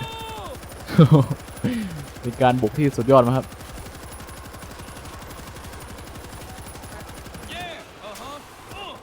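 Rapid bursts of gunfire in the video game World War Z, New York level, crackle in quick volleys early on, mixed with an excited voice talking over a dense, noisy battle backdrop.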